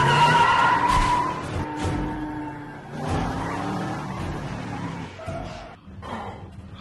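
A car in a film thriller screeches and speeds off after being restarted, loud tire skid and revving engine sweeping away over several seconds, with scattered background noises and no talk.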